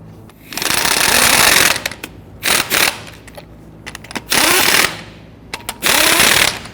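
Lug nuts on a 2010-2019 Ford Taurus front wheel being tightened with a power tool, heard as several loud, rattling, hammering bursts of a second or so each, separated by short pauses and a few brief clicks.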